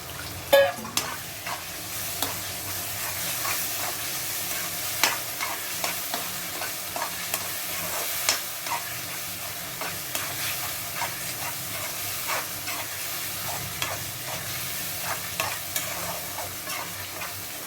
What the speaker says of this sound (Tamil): உரிச்ச இறாவை நம்ம அப்படியே இதில் சேர்த்துக்கலாம் எண்ணெயில்